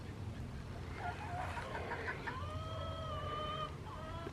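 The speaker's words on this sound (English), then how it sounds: "the chickies sound like they might need something." Chickens clucking and calling outdoors on a homestead, a few faint drawn-out calls and short clucks over a low background rumble, distant and without talking.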